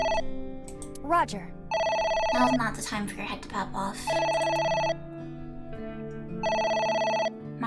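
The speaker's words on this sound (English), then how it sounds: "Oh, the phone. It's the phone." Electronic telephone ringing in AI: The Somnium Files, a bright repeating electronic tone in several bursts, with a voice talking over the gaps and between rings.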